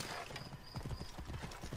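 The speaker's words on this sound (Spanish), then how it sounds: "Volvemos a llamar aquí al caballo." A horse in Assassin's Creed Origins trots with steady clip-clop hoofbeats over a constant game ambience, with a whinny mixed in, close and clear.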